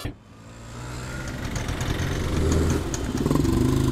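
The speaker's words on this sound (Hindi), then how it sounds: "इस रूट पे हमेशा ट्रैफिक रहता है यार" Steady rumble of road traffic on a busy city route, engines idling and creeping forward close by, a continuous low drone with faint higher tones over it, no voices.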